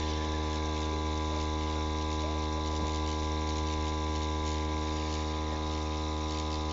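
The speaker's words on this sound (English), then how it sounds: "the noise of the compressor is going to spoil things, isn't it?" A small airbrush compressor runs steadily beside a model railway layout while track ballast is sprayed, giving a continuous, even mechanical hum with a constant buzzing drone that never pauses.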